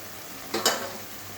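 Spice masala with ground cumin and cumin paste is stirred in a frying pan for ghugni, with a soft sizzle and a brief scrape of the spoon against the pan.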